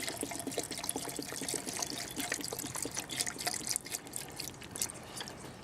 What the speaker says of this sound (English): Hydrochloric acid, just enough to cover them.